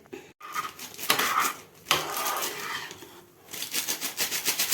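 Jaggery stirred in a pan with a utensil, giving irregular scraping and clinking strokes at close range, broken by short pauses, with no one talking.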